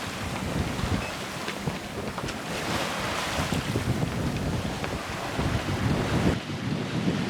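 Sailboat Zephyr IV beats to windward at about 5 knots in just over 20 knots of wind off Bournemouth, with a loud constant roar of wind buffeting the microphone and waves rushing past the hull.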